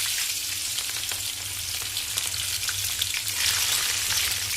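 Chana dal frying in hot oil in a home kitchen, a steady, moderately soft crackling sizzle that continues evenly throughout with no talking.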